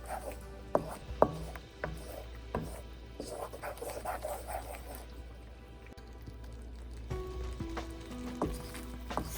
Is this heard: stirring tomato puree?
yes